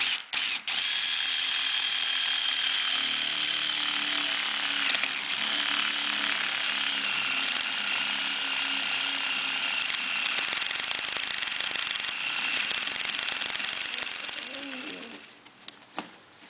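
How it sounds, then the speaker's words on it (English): A 3/4 inch paddle bit drills a hole during a wall cabinet installation, with a loud continuous whirring grind that runs steadily before winding down near the end. "I'm just going to use a 3/4 inch paddle bit."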